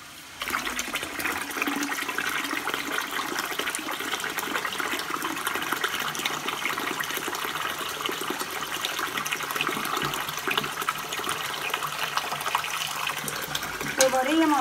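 Tap water runs steadily over soaked chickpeas being rubbed by hand so their skins float off, a continuous close gushing stream with a brief splash near the end.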